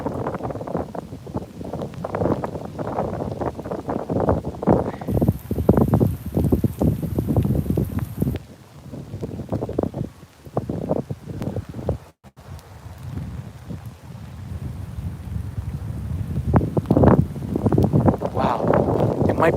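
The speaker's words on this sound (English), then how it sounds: "the wind is really strong" Strong gusty wind buffets the microphone in waves outdoors in Tokyo at midnight, with rustling and a steady hiss of rain; no talking.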